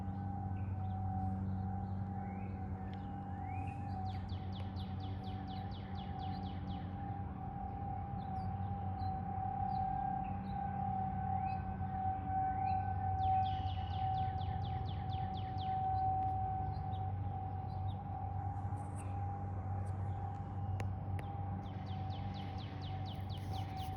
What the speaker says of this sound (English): Now the siren is going off.